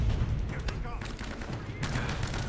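Gunfire and grenade launcher blasts in the video game Uncharted, rapid bursts and booms close up, with voices talking over the fighting.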